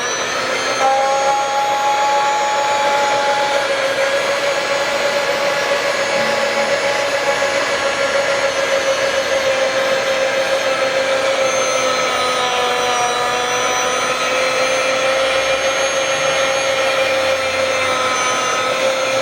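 A Chef's Choice 610 electric food slicer runs with its blade turning slowly, giving a steady, loud motor whir with a constant tonal hum that holds unchanged throughout, with no talking.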